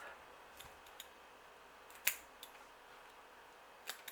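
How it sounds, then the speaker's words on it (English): Scissors snip the dried root ends off a Phalaenopsis orchid during re-mounting: a few faint, crisp clicks and one sharper cut, close up, over a quiet hiss with no talking. "So what I'm going to do with that is just cut these ends off."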